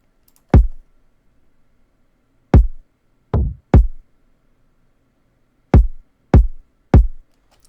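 Layered kick drum samples from a dark, moody R&B beat, with a hollow, struck character: seven punchy, deep thumps in a sparse, uneven pattern, each decaying quickly into silence, with no voice.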